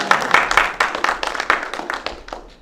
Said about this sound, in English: You can applaud every time.